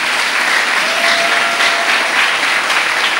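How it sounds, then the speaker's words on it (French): A congregation applauds together in one continuous, loud wash of clapping that holds steady throughout, dense and close with no individual voices standing out. "Si vous comprenez, acclamez le Seigneur."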